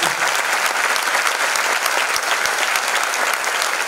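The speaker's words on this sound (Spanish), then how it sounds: "vamos a darle un fuerte aplauso" An audience at a dance school's anniversary gala gives strong, sustained applause, dense rapid clapping that stays loud and even for about four seconds with little else heard.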